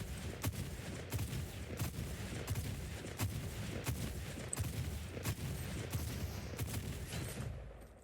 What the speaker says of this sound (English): I'm just going to sit here and shoot your opponent.